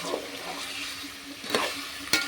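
Tomato and curry leaves frying in a pan while cooking mutton khichdi, a continuous close sizzle with spoon scrapes and two sharp clinks of metal against the pan.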